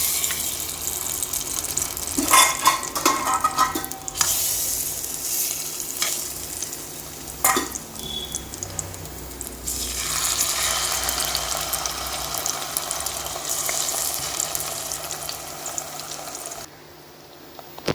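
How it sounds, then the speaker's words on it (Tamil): Bananas cooking in ghee for a banana sweet, a continuous frying hiss with scraping and clattering of a utensil early on, then a smoother sizzle that drops away near the end. "இப்போ இந்த நெய்யில் வாட்டி வச்சுருக்க வாழைப்பழத்தை"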